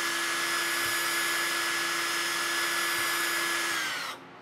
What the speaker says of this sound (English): I'm gonna grab a drill and just gonna drill a hole